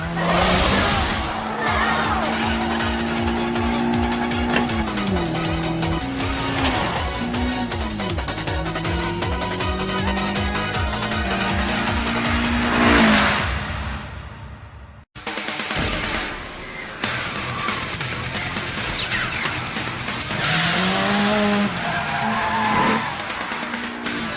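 A Toyota 86 race car engine roars loudly at high revs, shifting pitch as it accelerates, with a brief cut before another harsh, sustained exhaust roar.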